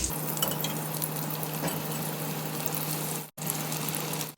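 Cheese potato bread balls frying in oil in an appe pan, a steady close sizzle that holds evenly throughout and cuts out briefly near the end.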